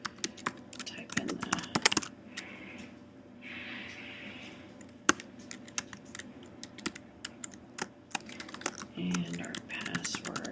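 Password being typed on a computer keyboard while setting up a Windows Server 2012 R2 system: a close, steady patter of key clicks over about ten seconds, with brief bursts of faint speech between the keystrokes.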